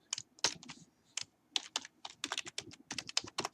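Rapid, uneven keystrokes on a computer keyboard while writing R programming code, close and clear, in bursts with short pauses and no talking.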